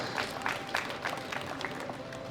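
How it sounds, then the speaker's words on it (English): An audience applauds junior bench press medalists at a world classic powerlifting championship awards ceremony, a steady wash of clapping from a sizable crowd that holds at an even level throughout without a break. "give them a round of applause to the best 3 athletes on the bench press"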